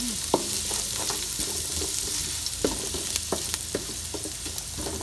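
Ginger and onion sauté in a pan with a steady hiss and repeated scraping, clinking stirs of a spatula close up, cooked for a traditional porridge.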